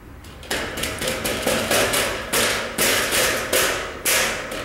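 A metal stud is fitted into a dry-construction drywall partition frame, giving a series of about seven sharp, resonant metallic knocks in a fairly even rhythm, each with a brief ringing decay. They are loud and close, and no one speaks.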